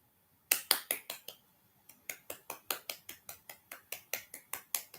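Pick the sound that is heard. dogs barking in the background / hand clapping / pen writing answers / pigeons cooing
hand clapping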